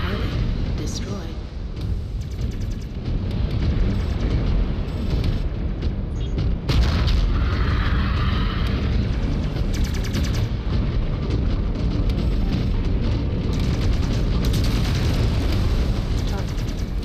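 Explosions and weapon fire in MechWarrior 5 combat, with dense booming blasts and rumbling impacts sustained throughout, layered under radio-style game voice callouts.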